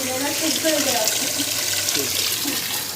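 Hot water running from a tap fed by a condensing combi boiler, a steady close rush of flowing water with faint speech underneath.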